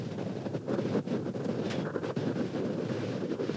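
Steady wind gusts across a disc golf course during a tournament round, a constant low rushing roar buffeting the microphone throughout.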